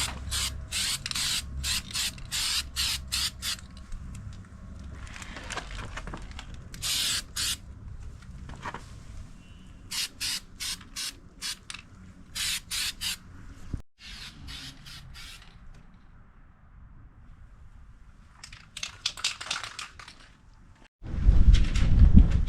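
Bed liner coating sprayed onto plastic panels of a Suzuki Grand Vitara, with repeated short, hissing aerosol bursts, some in quick trains and others longer, separated by quiet gaps, and a louder clatter at the end.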